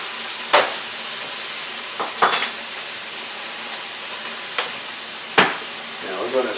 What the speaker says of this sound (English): Now we're going to stir this all in, get this all nice and covered.